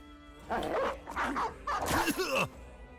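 Several video-game dogs bark and yip in quick bursts, a few sharp woofs followed by a louder run of barks and a whine, close and clear over faint background noise.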